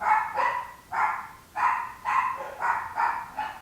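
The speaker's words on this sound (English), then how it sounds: "Is that why my dog is barking?" A dog barks repeatedly indoors, about seven sharp evenly spaced barks at moderate distance, clear and loud with no talking over them.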